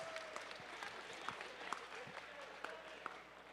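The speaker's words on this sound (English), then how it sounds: "Let's give a round of applause to our first alliance." Crowd applause at a VEX Robotics competition as the first alliance is announced, moderately distant clapping in a large hall with a few sharper claps standing out and talk faintly underneath.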